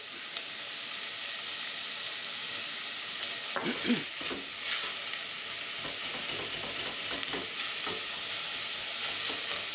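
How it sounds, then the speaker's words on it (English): Chopped celery sizzling and frying in a pan for a vegetable bolognese, a steady close hiss with a few stirring scrapes midway, no talking. "And then we can add in the celery. So celery goes in next."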